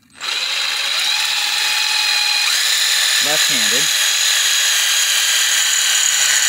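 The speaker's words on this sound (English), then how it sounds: "drill through metal into stone and secure it with masonry screws" An impact driver with a drill bit bores through metal into natural stone, a steady high-pitched whine running throughout at close range, with a brief burst of a few words partway through.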